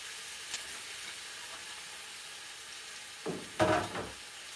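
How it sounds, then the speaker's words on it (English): Sausage for a Mardi Gras jambalaya drops into a hot pot and starts to sizzle, a soft hiss that rises into a brief, louder crackling burst near the end, heard alone without talk. "See that sizzle?"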